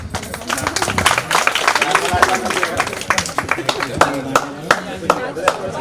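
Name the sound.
audience clapping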